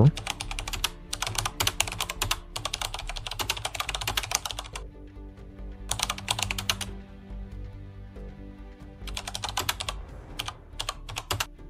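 Computer keyboard typing a prompt: close, crisp clusters of rapid keystrokes in several bursts separated by short pauses, with a low steady background hum.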